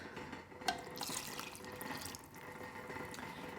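Steady running water, like a stream being poured into an Instant Pot, continues evenly throughout with a brief clink near the start.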